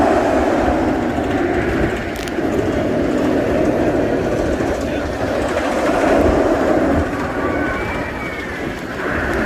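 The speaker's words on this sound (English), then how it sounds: "There goes another train full of riders." The Batman the Ride roller coaster train rushes past with a steady, loud roar and rumble of wheels on track, a faint squeal near the end.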